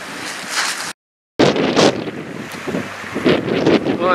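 Strong wind buffets the microphone in loud, roaring gusts at the Jenner boat ramp on the California coast, with a brief total dropout partway through before the blustering resumes.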